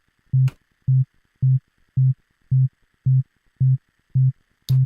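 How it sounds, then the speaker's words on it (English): A pure low sine test tone from an audio plugin, switching on and off in about nine even, steady pulses, clean and alone. "that's a pure sine wave for sure"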